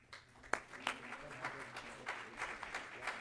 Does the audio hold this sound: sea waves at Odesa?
no